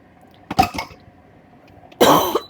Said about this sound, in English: The weather has my cough acting up.